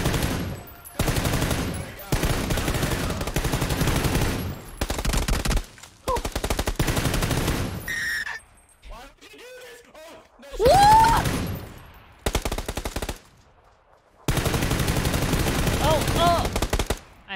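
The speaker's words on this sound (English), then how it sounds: "I think this is where we start shooting." Gunfire in PUBG during a zombie match: loud, rapid machine-gun bursts that start and stop repeatedly, separated by short quiet gaps.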